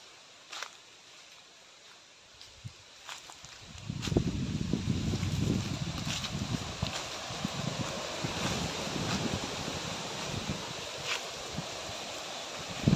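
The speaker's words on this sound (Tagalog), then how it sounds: "grabe oh, lakas ng hangin, parang may bagyo" Strong wind gusting outdoors, a steady broadband rush that swells loudly from about four seconds on and keeps buffeting with rumbling bursts, as if a storm is blowing.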